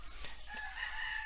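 A rooster crows in the Bali countryside, sounding faint and distant as a single drawn-out call over a steady background hum.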